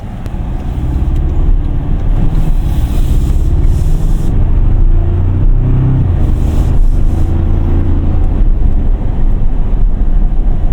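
A 2025 Toyota Tacoma TRD Off Road engine accelerates, a loud, steady low drone heard from inside the cab with wind and road noise over it.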